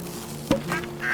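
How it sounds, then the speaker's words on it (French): A small duck in the farming video game Farm Together gives one short nasal quack over a low steady hum, followed by fainter honking calls. "Regardez le petit canard."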